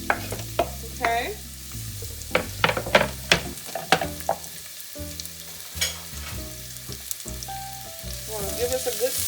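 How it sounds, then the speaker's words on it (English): Chopped onion fries in a pot for an Indian sweet potato and lentil soup, a steady close sizzle broken by repeated scraping stir strokes and clinks of a spoon, with no talking. "And add your onion, your chopped onion. And let this cook for about 2 minutes."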